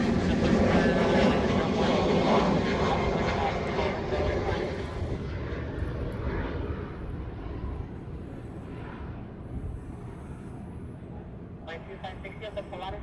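A Pilatus propeller plane departs along a Hawaii shoreline, its engine drone loud at first and gradually fading as it climbs away, with no voices heard.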